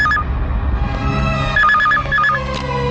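A telephone rings with a warbling electronic trill in two short bursts over a low background rumble, close and clear with no talking.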